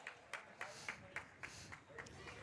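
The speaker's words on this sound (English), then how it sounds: "If you can hear that clapping in the background, that is Brady Holt." A lone spectator claps steadily in the background of a high school basketball game between Grove City Christian and Lakewood, with about eight evenly spaced claps, faint and distant beneath general gym noise.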